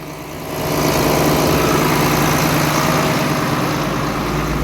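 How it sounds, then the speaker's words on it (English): A tractor engine idles loudly and steadily nearby at about 1120 RPM during a durum harvest, a constant low droning hum with a slight rise in level at the start. "We just leave the tractor like this all day."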